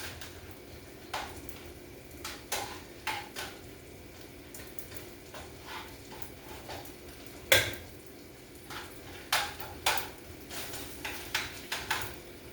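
Garlic is stirred in a frying pan for chicken fried rice, with a faint sizzle under repeated scrapes and taps of a utensil against the pan in an irregular rhythm.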